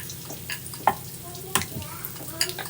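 A puri deep-fries in hot oil. Soft bubbling and sizzling run under a few light taps and knocks from a utensil over a couple of seconds, with a faint voice murmuring in the background.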